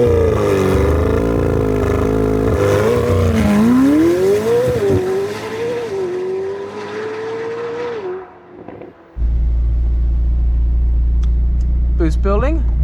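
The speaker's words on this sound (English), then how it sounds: "Oh, the noise this car makes, the sounds." A car engine revs hard and climbs in pitch through repeated gear pulls, then drops briefly and resumes with a deep steady drone, close and loud with excited talk over it.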